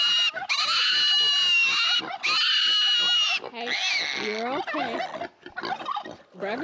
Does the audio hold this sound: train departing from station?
no